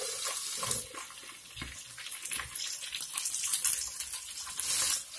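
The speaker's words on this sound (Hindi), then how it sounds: "अब इन भिंडियों को फ्राई कर लूंगी" Okra pieces frying in hot oil for an aloo bhindi dish give off a steady, close hiss with scattered crackles and pops throughout, with no voices.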